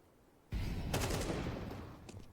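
AK rifle fire in a Counter-Strike tournament match: a sudden burst of rapid gunshots erupts and keeps rattling for nearly two seconds at fairly low level, no voices.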